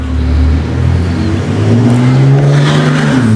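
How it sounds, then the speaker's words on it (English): A loud car revs nearby with a deep, throaty engine note that swells and climbs in pitch, heavy and close with no talk over it. "There's the loud-ass car."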